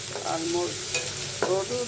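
Small shrimp frying in a pan for a red leafy greens dish, a close, steady sizzle with a couple of short scraping stirs, brief and without talk.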